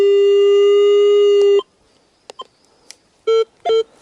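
Metal detector sweeping for military relics in the Carpathian mountains gives a long steady electronic tone, then a pause, a few short faint blips and two sharp clear beeps close together near the end.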